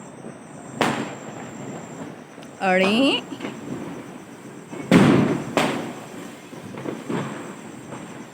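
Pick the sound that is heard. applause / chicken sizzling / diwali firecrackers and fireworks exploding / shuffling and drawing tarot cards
diwali firecrackers and fireworks exploding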